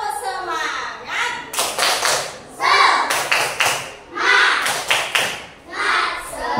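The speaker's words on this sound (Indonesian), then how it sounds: "Tepuk semangat" Second-grade class and teacher doing a rhythmic clapping chant in a classroom. Loud, close clapping comes in quick patterned bursts with pauses between them, under children's and an adult's chanting voices.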